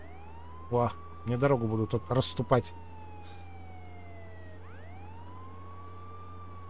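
A police car siren in the video game Contraband Police wails and sweeps in long falling and rising tones, steady at moderate loudness, while someone speaks briefly over it.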